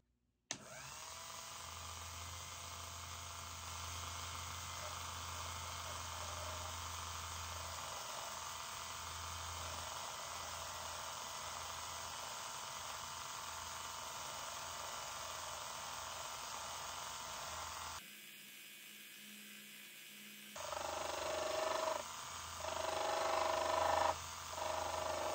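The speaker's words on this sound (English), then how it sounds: "I guess that's what's called chatter, because it was chattering" A watchmaker's lathe turns with a steady whirring drone and a rough chattering buzz from the cut, continuous for most of the stretch before briefly dropping away and resuming with uneven scraping.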